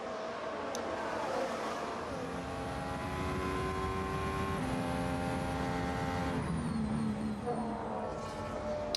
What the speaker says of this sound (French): Le voici, Sébastien Vettel en route vers une 44e victoire d'ici quelques secondes maintenant.